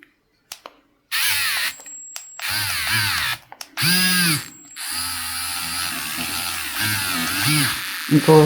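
Small power drill boring a hole into the top of a resin skull keychain, whirring in several short bursts of a few seconds each, close and clear, with brief pauses between runs.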